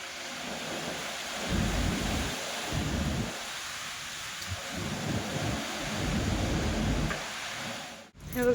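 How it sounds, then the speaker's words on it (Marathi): Large hailstones fall amid heavy rain during a thunderstorm with strong wind, a dense steady pelting broken by deep rolling rumbles of thunder that swell and fade several times. "मोठ्या मोठ्या गारा पडायला लागलेल्या"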